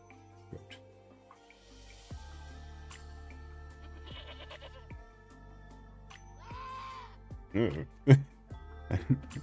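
A recorded goat bleat plays from a computer sound button: a few short, nasal bleats come near the end, after a stretch of quiet clicks and soft background noise with no one speaking.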